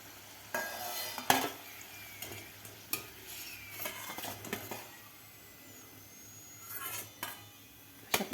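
Matar kachoris, green pea stuffed pastries, sizzling and deep-frying in hot oil, with a steady crackle and occasional clinks of a slotted spoon against the pan.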